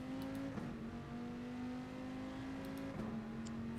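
A Citroen race car in a video game at Laguna Seca holds a steady, droning engine note at fairly constant revs, with brief shifts in pitch, fairly faint and with no voices.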